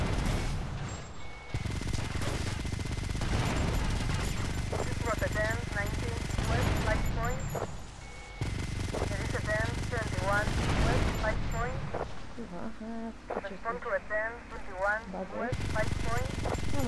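Gunfire in GTA Vice City comes as repeated bursts of shots over steady game noise and rumble for the whole stretch. Someone talks over parts of it.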